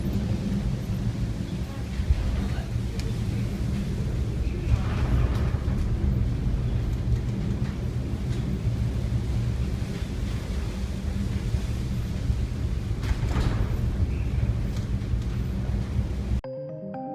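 A 3,400-ton vessel rides out a storm in the North Sea, with a continuous loud roar of wind and heavy sea, occasional rumbling swells, and no pause throughout.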